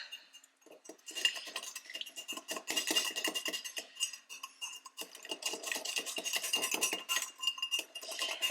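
Ingredients whisked in a bowl in a home kitchen, quick rapid metal clicks and scrapes against the bowl coming in dense bursts with short pauses.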